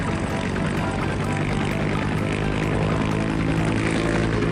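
A helicopter flies steadily and loudly overhead, its rotor and engine drone filling the air in a continuous rumble with no pauses.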